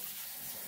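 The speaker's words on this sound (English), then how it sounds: "the hot water helps flush it away" Hot water runs steadily from a tap into a kitchen sink that is being cleared of grease, a faint, even rushing wash with no talk.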